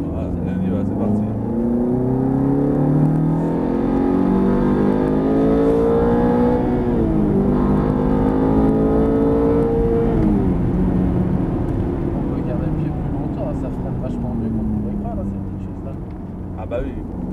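A 500-horsepower Ferrari F430 engine accelerates hard on a racetrack, with loud rising and falling revs through the gears under steady talk from people in the car.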